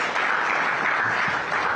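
A studio audience at a live stock market television show breaks into steady applause, a dense even wash of many hands clapping without pause.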